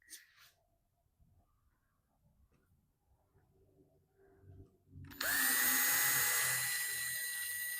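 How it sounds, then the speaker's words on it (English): A power drill whirs up loudly after a few seconds of quiet handling noises and runs steadily at high speed until the end. "go ahead and drill some holes for it to hang"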